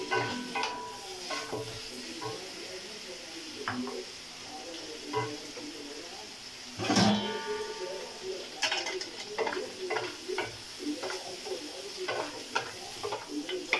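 Pieces of dumba mutton fry in rendered fat, sizzling steadily while a utensil stirs and knocks against the pot in irregular strokes, with one louder scrape midway, close and moderately loud throughout.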